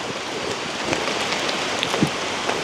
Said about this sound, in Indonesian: Hujan itu rahmat.